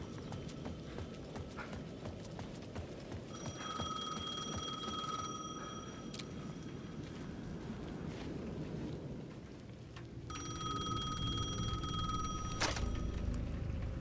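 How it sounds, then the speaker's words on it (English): A payphone rings at the edge of a plaza in the Alan Wake II video game, with two bursts of a shrill electronic ring over steady falling rain and low rumble. "The payphone at the edge of the plaza was ringing again."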